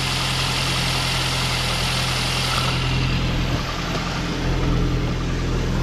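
A Saab 9-5 with a B235 engine idles steadily while warming up. The low, even rumble stays loud and continuous throughout, with no voices.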